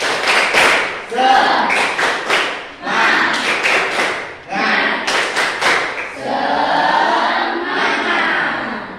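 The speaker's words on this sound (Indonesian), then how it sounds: "Ayo kita dulu tepuk semangat dulu." A school class doing rhythmic 'tepuk semangat' spirit clapping, bursts of loud synchronized claps in patterned groups, with children's voices chanting along and then calling out together at the end.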